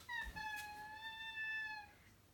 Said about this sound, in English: Well, not crying, meowing.